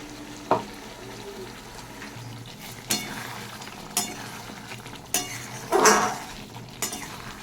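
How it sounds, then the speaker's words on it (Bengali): Spice paste of tomato, ginger and melon seed sautéing in oil in a pan, with a continuous close sizzle broken by several sharp spatula scrapes and clinks, without speech. "মশলাটাকে ভালো করে কষিয়ে নিচ্ছি।"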